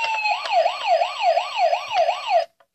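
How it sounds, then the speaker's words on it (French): A white toy ambulance sounds its electronic siren up close, a fast warbling wail that cycles about six times over two seconds before cutting off abruptly into silence. "Là on a la sirène."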